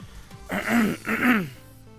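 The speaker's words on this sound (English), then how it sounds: "Sorry if I'm coughing in the video" A person clears their throat twice in quick succession, close and fairly loud, with quiet between.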